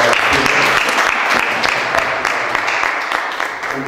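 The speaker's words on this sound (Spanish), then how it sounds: "quisiera que le brindáramos un aplauso" An audience at a UNAM university extension seminar in Mexico applauds a speaker, a dense, steady round of clapping close to the room, fading slightly toward the end.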